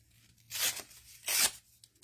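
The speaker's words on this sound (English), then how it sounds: "And I just kind of rip different sizes of the paper" Paper ripped by hand into pieces for a collage background: two distinct tearing rips, each about a quarter second long, close and crisp with a quiet pause between them.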